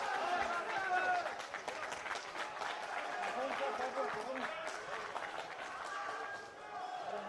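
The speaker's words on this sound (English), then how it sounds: "And applause round ringside" Ringside applause after a boxing bout at the IBA World Championships, a moderate round of clapping and crowd noise heard faintly beneath a commentator's voice.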